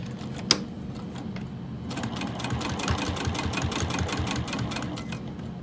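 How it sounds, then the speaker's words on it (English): A sewing machine stitching a wristlet seam at a quarter-inch allowance, starting after a single click and then running a continuous rapid rhythmic stitch close by. "we're gonna sew using a 1/4 inch seam allowance, so just right along the edge"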